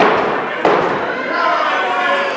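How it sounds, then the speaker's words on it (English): A single heavy thud of a knee strike lands in Pro Wrestling Battleground, short and punchy, set in a continuous roar of arena crowd noise that carries on after the hit. "Big knee strike there from Jeff O'Shea"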